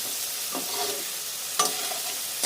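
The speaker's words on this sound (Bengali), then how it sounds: "এবার ভালো করে নাড়াচাড়া করে নেব।" Water lily stems with prawns being stir-fried in a pan, a soft, steady hiss of frying broken by two brief scrapes of a spatula stirring, close and without voices.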